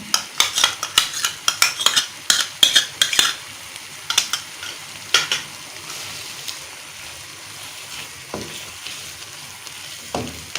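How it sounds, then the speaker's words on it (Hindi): Spoon scraping and clinking against a pan while stirring yogurt into brinjal bharta masala, a series of sharp metallic taps and scrapes, busier at first and then sparser, with a faint sizzle underneath. "अब हम आधा कप दही इसमें डालने लगे हैं"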